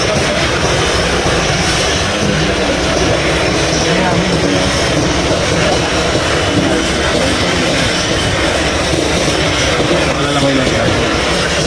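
A helicopter flies and circles overhead near a port, its steady dense rotor and engine roar filling the scene continuously and loudly, with voices talking over it.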